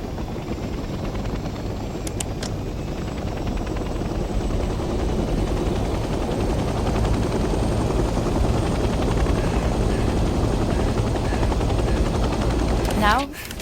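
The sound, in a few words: helicopter taking off and hovering in a video game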